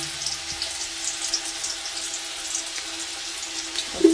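Dry red chillies and bay leaves frying in mustard oil for a winter vegetable khichuri, making a continuous close hiss and sizzle at an even level, with a faint clink near the end and no voices.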